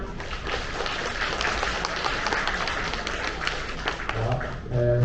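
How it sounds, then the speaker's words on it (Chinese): Warm applause from a seminar audience welcoming a guest speaker, a steady wash of many clapping hands that carries on evenly before fading near the end as a voice begins. "所以我们要给他热烈的掌声来欢迎他"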